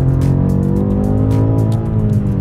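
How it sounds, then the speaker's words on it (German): A 720 PS BMW M8 Competition fitted with an AC Schnitzer exhaust rumbles loud and close, its engine note droning steadily with layered harmonic tones throughout. "das ist schon mal wegen der Abgasanlage hinten ein ganz anderer Sound, den ich von meinem M8 kenne"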